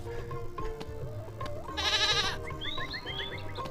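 A goat bleats in the Bangladeshi video game Meena 2: a short, wavering cry over game sounds, followed by light chirpy effects.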